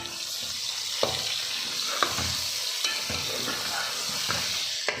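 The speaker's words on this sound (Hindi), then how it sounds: "अब मैं इसमें लहसुन अदरक का पेस्ट डालूँगी" Garlic ginger paste sizzles with chicken in a pan for chicken biryani, a constant frying hiss broken by stirring scrapes about once a second, close and alone.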